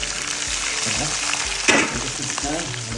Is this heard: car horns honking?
no